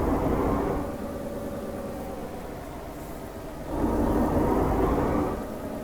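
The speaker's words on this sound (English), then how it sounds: "It's a nice engine noise." A truck's engine runs steadily, a loud continuous low drone with a swell in intensity partway through, heard from inside the cab with no talking.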